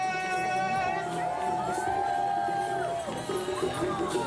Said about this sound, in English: Let's give a big cheer for our village stilt walkers.